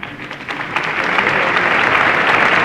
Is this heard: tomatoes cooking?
no